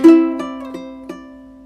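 A few plucked ukulele notes ring out clearly, one after another in a steady rhythm, each sustaining and fading, with no voices.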